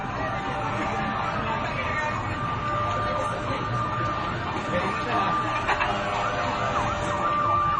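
Fire truck sirens wail at a fire, rising and falling under steady crowd and traffic noise, with people talking nearby throughout.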